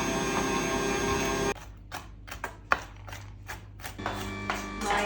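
Egg whites being whisked until stiff, with a loud steady whirring buzz for about a second and a half that stops abruptly, followed by scattered sharp knocks and taps.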